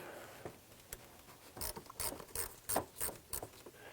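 A ratchet wrench loosening a 10mm nut on a vehicle battery terminal, heard as a series of quick, close clicking bursts in a steady rhythm.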